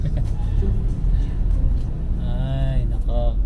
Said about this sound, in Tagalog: Guys, tingnan nyo, traffic.